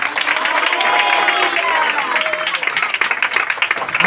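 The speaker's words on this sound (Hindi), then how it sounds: "जोरदार ताली बजा के हालेलुया बोलिए" A church congregation at a Christmas celebration in Delhi claps loudly together, a dense burst of applause mixed with crowd voices and shouting that thins toward the end.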